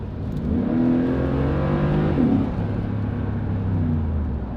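A 2017 Mercedes-Benz G63 AMG with its 5.4-litre bi-turbo V8 rumbling at a steady low idle, a deep continuous drone with a brief swell partway through, heard close and alone.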